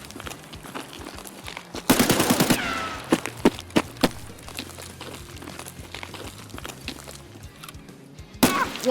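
AK-74N rifle fire in the shooter game Escape From Tarkov: a loud sustained automatic burst, a few scattered single shots, then another short burst at the end over a low background of game ambience.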